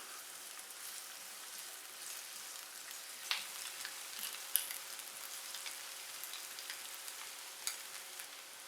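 Chopped onion softening in 2 to 3 tablespoons of oil in a pan, a faint steady sizzle with occasional small pops and crackles.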